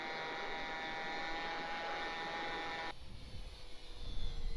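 Hobby-King Cessna TTX model airplane flying with its electric motor at about half throttle, a steady buzzing whine heard from some distance that drops abruptly partway through, leaving wind rumble and handling noise.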